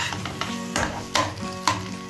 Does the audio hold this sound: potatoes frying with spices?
yes